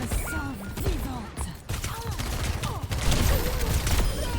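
Rapid bursts of gunfire from the video game Overwatch 2, a dense fusillade of shots mixed with game effects and the voices of players talking over them.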